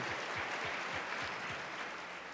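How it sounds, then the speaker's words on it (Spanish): Audience applause at a youth church panel event, a soft, steady wash of clapping lasting a couple of seconds, fairly quiet and even throughout. "Un fuerte aplauso."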